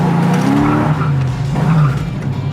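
A 1969 Ford Mustang restomod with a swapped engine spins its tires under hard acceleration, a loud close engine roar with squealing rubber rising and falling over a couple of seconds.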